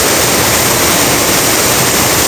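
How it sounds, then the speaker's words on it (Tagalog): Heavy rainwater gushes off a house roof into an already full drum, a loud, continuous roaring splash with no pauses. "malakas ang agos ng tubig na nagmumula sa bubungan ng bahay"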